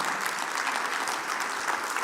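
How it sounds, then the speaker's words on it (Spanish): A church congregation gives a strong round of applause during a sermon, a dense continuous wash of clapping, fairly faint and distant, with no voices over it. "Dale un fuerte aplauso a Él."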